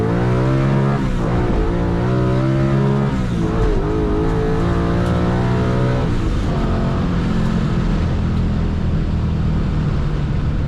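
A car engine on a drag strip revs hard in first and climbs through the gears, loud and close, with rising whine and a brief dip between shifts.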